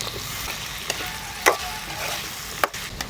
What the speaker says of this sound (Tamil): கத்திரிக்காயும் அந்த மொச்சையும் போட்டு நல்லா வதக்கிட்டோம்